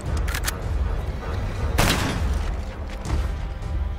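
Gunfire and explosions from Call of Duty: Black Ops multiplayer, a dense loud stretch of rumbling blasts with sharp shot bursts, one heavy boom standing out midway.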